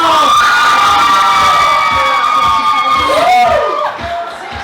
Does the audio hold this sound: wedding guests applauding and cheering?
yes